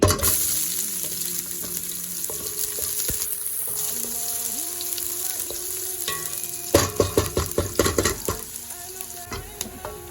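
Onion fries in two tablespoons of hot oil in a pan for a chicken pasta white sauce, a continuous close sizzle that turns into a burst of rapid stirring scrapes and clatter toward the end.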